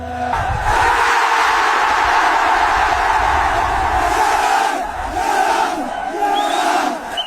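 Crowd shouting and chanting around a village wrestling arena, a dense, loud roar of many voices sustained throughout with swelling cries near the end.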